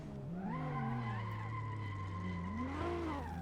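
Car engine revs with tire noise on a touge mountain track, a steady droning engine tone rising and falling in pitch, heard continuously at moderate distance.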